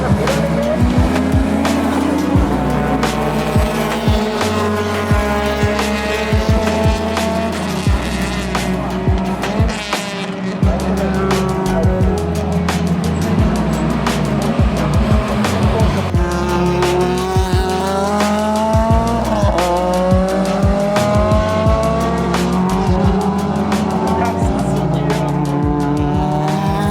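Cars drifting at a Japanese drift course, with engines revving up and down and tires squealing repeatedly across a long, loud stretch.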